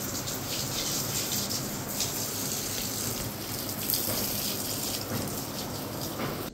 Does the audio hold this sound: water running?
yes